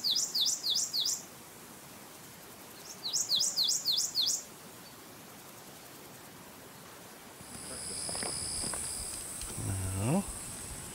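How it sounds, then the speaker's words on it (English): Male prothonotary warbler song played back in the field, two bursts of rapid, ringing repeated sweet notes, loud and clear, followed by a softer stretch of other bird calls and background noise. "we're gonna play the song of the male prothonotary warbler"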